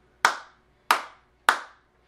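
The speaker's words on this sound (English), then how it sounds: "I can even get spikes by clapping over here." Three sharp, separate hand claps ring out at an even pace in a quiet room, each loud and close with a short decaying tail.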